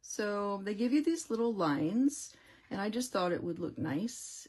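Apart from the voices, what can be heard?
No distinct noise like a dog, phone or traffic.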